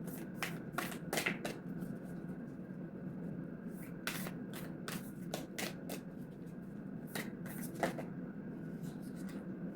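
Tarot cards riffled and shuffled in repeated quick bursts, close and fairly loud, over a steady low room hum with no talk.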